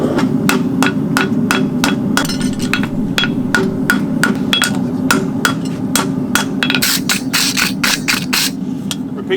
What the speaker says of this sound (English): So now I'm going to start the welding process, and I'm going to start heeling away from myself.